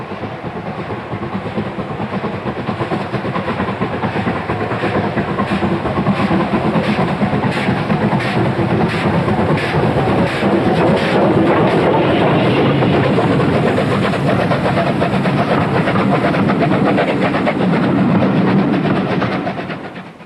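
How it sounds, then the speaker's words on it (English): Steam locomotive 34101 Hartland, a Pacific, hauling a lunchtime diner train: a loud, sustained rumble with rhythmic exhaust beats and wheel clatter that swells, holds for about twenty seconds, then fades at the end. "34101 Heartland is working the lunchtime diner train."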